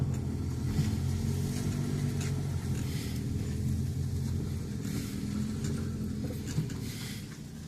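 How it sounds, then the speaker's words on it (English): Fire trucks drive past at a McKeesport, Pennsylvania fire scene with a heavy, continuous engine rumble that swells and slowly recedes, heard from a moderate distance outdoors. "Fire trucks."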